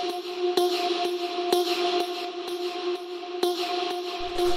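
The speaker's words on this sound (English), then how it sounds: "So this is just a little vocal one shot here," A short vocal one-shot sample in a minimal tech house track, a sustained tonal vocal texture punctuated by regular percussive hits at moderate loudness, looping steadily with no talking.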